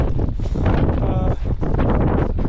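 Strong wind buffets the microphone during a winter ascent of Cherni Vruh mountain, a continuous loud roar with gusty surges, and a voice talking faintly beneath it.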